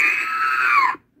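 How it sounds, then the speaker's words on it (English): An electronic Star Wars game plays R2-D2's screaming sound effect: one loud, shrill, wavering electronic shriek lasting about a second that slides downward, then cuts off abruptly into silence. "He got R2-D2 screaming."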